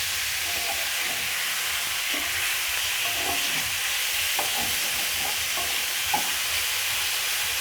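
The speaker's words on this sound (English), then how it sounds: "Then I'll stir in the meat so that it can be coated with the garlic and ginger and onion." Meat stirred into garlic, ginger and onion in a hot pan for okra stew, giving a steady broad sizzle with soft scraping and light clunks of the spoon at intervals, close and without talk.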